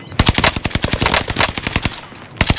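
Rapid bursts of automatic gunfire in Call of Duty Warzone on Rebirth Island, loud sharp shots in quick rhythmic strings with a short pause before a final burst, no speech.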